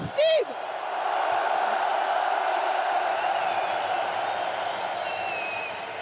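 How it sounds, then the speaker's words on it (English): An esports crowd at La Défense Arena breaks into sustained, loud applause and cheering, following a brief opening tone, with the clapping roar filling the space for several seconds. "un tonnerre d'applaudissements pour Simp"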